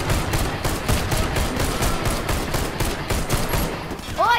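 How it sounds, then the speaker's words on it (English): Rapid gunfire in the video game Warface during a team deathmatch, including pistol shots: a dense string of sharp repeated bursts running the whole time at steady loudness, with a brief chirpy electronic game sound at the end. "Oh, I killed him with a pistol."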